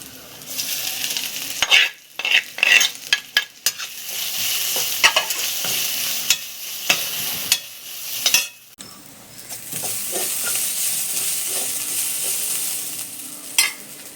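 Crushed spice paste fries in a hot pan with a steady hiss, broken by repeated scraping and clattering strokes of a spoon stirring through it, close and loud, with no talking.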